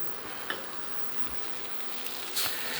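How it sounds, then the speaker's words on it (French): Rice frying in oil in a pan for paella makes a faint, even crackling hiss with a couple of light taps, quiet and close. "Et là, je vais venir faire frire mon riz."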